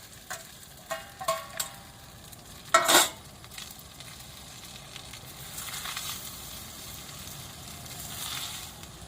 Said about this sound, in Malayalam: ഉപ്പുമാവ് നല്ല ഭംഗിയായിട്ട് ചട്ടിക്കകത്തിരുന്ന് വേകുന്നു.